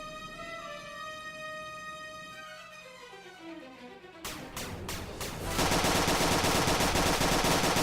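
Gunfire in Executive Assault, an RTS/FPS hybrid game: a falling electronic tone gives way to loud, continuous rapid-fire bursts that build into a dense, sustained fusillade.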